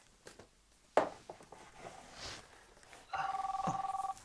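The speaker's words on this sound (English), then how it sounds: "Just let me get that phone call." A telephone rings with a rapid, steady electronic trill lasting about a second, heard after some soft handling noises and footsteps in a quiet video-store room, fairly close.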